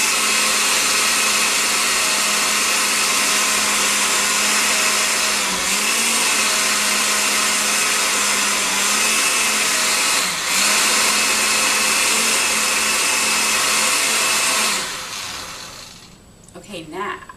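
A blender runs steadily for about fifteen seconds, loud and continuous, churning green juice with whole lemons, then winds down and stops near the end.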